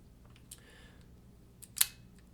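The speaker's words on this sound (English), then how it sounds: "That's winding the film. That's releasing the shutter." An Argus C3 film camera with a quiet mechanical film-wind ratchet, then a single crisp, sharp click of the shutter release, close up and isolated in a quiet room.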